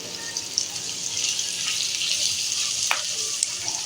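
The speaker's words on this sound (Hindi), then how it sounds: "तो यहाँ मैंने प्याज शामिल कर दिए इसमें। प्याज को थोड़ा सा मैं नरम कर लूँगी।" Onions fry with spices in a pan, giving a quiet, continuous hissing sizzle close by.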